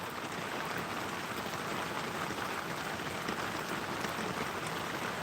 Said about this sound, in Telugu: అక్కడ గొర్రెల దగ్గర వర్షం వస్తుంటే నేనైతే లైవ్ పెట్టి చూపించడం జరుగుతున్నది